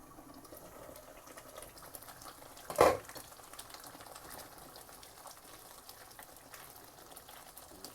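Marinated chicken with onion and tomato puree for chicken tikka karahi cooks in a pan with a quiet, steady sizzle and one brief louder clatter or stir partway through.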